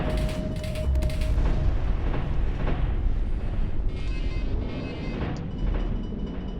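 Missiles fire in a video game as a dense, loud barrage of rumbling launches and booms, continuous and close, with mechanical clatter and no talk.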